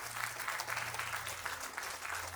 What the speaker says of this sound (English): a round of applause for Dominic Samma for Veil of Dust